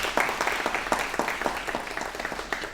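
An audience claps to welcome expert guests on a Teacher's Day discussion programme, a brief burst of moderately dense, fairly close clapping that carries steadily for a few seconds with no speech over it.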